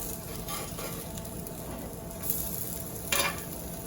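Chickpea and beet patties sizzle steadily in a frying pan, a soft constant crackle with a couple of brief louder utensil clinks near the end.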